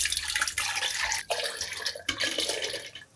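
Bone broth is ladled from a pot into a fine mesh strainer, giving close, splashy pours and trickles of liquid with brief pauses between scoops and no talking.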